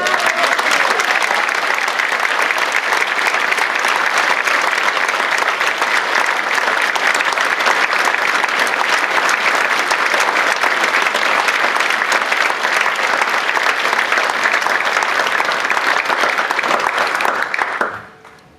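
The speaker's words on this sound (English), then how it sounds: "everyone else to give them a round of applause, please" A theatre audience at a concert for Afghan refugees gives a long, full round of applause, dense and even for nearly twenty seconds before cutting off sharply.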